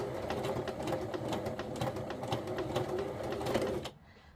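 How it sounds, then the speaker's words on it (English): A sewing machine reverse stitches across a journal cover with a steady, close, rapid mechanical chatter that runs without a break for about four seconds, then stops abruptly. "I'm going to reverse stitch over that."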